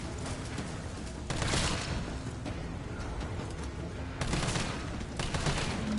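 Bursts of gunfire in the Resident Evil 3 video game, a dense run of shots with louder clusters near the start and again toward the end, no talk over it.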